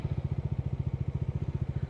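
A motorcycle engine putters in a steady, rapid low thumping rhythm while crawling through a traffic jam on a road under construction between Diphu and Siliguri, close and fairly loud with no talk.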